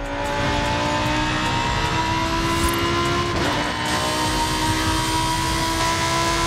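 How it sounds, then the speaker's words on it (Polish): Italian exotic race car in a racing video game, built for track use with a welded roll cage: a loud, steady engine drone with a constant high whine, sustained throughout with no talk. "ten samochód brzmi naprawdę fantastycznie"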